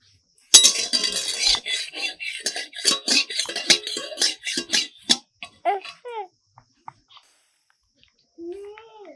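A metal spatula knocks and scrapes against a wok while mustard seeds fry, giving a quick run of bright clinks that thin out into scattered taps, followed by a brief, faint voice near the end.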